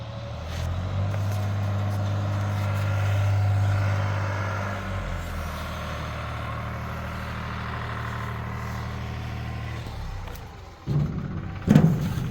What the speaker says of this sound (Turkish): Traktör geri geri gelecek.